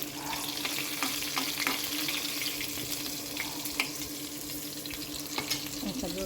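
Fenugreek seeds sizzle steadily in hot oil in a home kitchen, a continuous crackling hiss with a few brief clicks of stirring, moderately close and with no voices.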